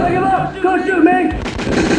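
A loud voice shouts in a video game, then a burst of rapid gunfire rattles close and loud in the final second.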